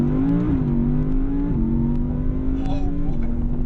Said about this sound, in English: Right, I'll get the window open so we can hear a bit of engine sound.